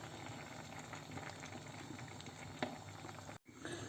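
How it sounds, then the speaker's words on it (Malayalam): Prawn curry with coconut paste, jackfruit seed, mango and drumstick simmering at a steady rolling boil in a pot, a dense continuous bubbling with one brief clink near the end and a short gap before it resumes. "അപ്പോൾ അരപ്പെല്ലാം കൂടെ ചേർന്ന് കറി നല്ല ഒന്നാന്തരമായിട്ട് തിളച്ച് നല്ലതായിട്ട് മറിയുന്നുണ്ട്"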